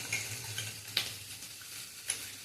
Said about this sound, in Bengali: এটা 1/2 কাপ জলেতে 2 চামচ দু চামচ কর্নফ্লাওয়ার গুলে নিচ্ছি